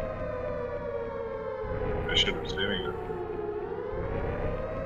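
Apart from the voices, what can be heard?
siren in Dread X Collection 3 video game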